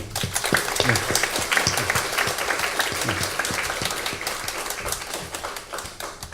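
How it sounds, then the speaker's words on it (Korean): A church congregation claps together during an Easter Sunday morning service, a loud, dense burst of rhythmic applause with steady beats that carries on through the whole stretch. "우리 함께 박수 한번."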